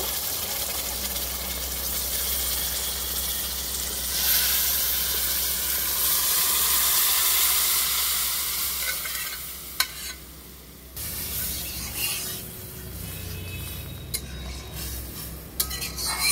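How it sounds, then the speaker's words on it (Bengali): Boiled tadka dal is poured into a pan of sizzling spices, giving a loud, continuous frying hiss with stirring and clinks of a utensil against the pan throughout. "এবারে তড়কাটা সিদ্ধ করে রেখেছিলাম, এগুলোকে একটু একটু করে দিয়ে দিব।"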